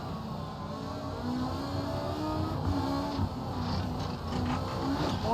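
Low engine drone of a rally car in the Assetto Corsa racing game, steady and continuous with faint harmonic whine, no talk over it.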